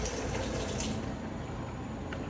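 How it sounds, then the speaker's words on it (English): Kitchen sink faucet running hot water, a steady loud rushing hiss of water streaming into the basin, close and continuous with no talk. "the hot water comes out pretty quick,"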